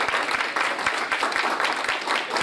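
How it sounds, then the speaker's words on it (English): Applause from the audience at a legislative meeting: a dense, continuous patter of many clapping hands, fairly close and steady, with no talking over it. "let's give her a round of applause"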